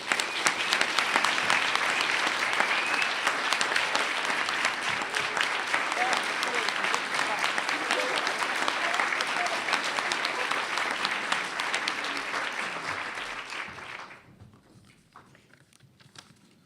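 A large audience bursts into sustained, dense applause as Dr. Patricia Kelley is welcomed on stage at the 2014 U.S. Professor of the Year event, clapping steadily for about fourteen seconds before dying away quickly.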